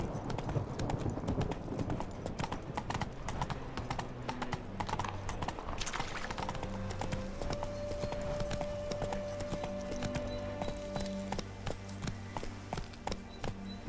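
Hooves of Geralt's horse Roach clip-clop steadily at a trotting pace in The Witcher 3, close and continuous for the whole stretch, with a soft game music tone rising partway through.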